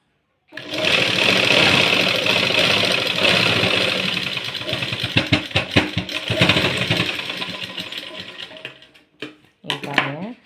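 A sewing machine runs close and loud while stitching a blouse, a fast continuous mechanical whir that breaks into slower clattering bursts and short stops near the end.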